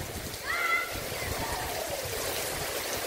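Heavy night rain falls in Saboeiro, Ceará, driven by strong wind, a steady broadband wash that runs unbroken for the whole stretch at moderate loudness.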